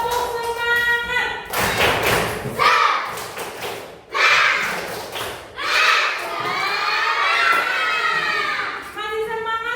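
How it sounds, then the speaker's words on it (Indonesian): Primary schoolchildren in a classroom doing the rhythmic 'tepuk semangat' clapping chant, loud chanted voices with thumping claps and shouts in bursts, close and energetic, a teacher's voice also heard. "coba tepuk semangatnya dulu"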